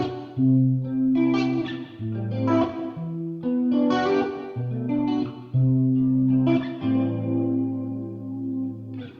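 An electric guitar played through saturator, amp and cabinet plugins plus a Guitar Room hybrid reverb and classic chorus rings out in sustained chords and short phrases, with lush, wide reverberant tails between notes.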